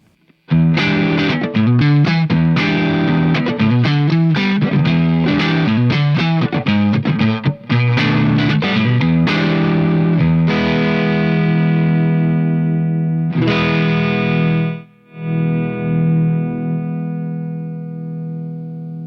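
Electric guitar through a Sabbadius Funky Vibe Real Size 1969 Shin-ei Uni-Vibe style pedal at maximum setting, busy strummed riffs, then long ringing chords with a swirling modulated, driven tone that decays to a fading sustain.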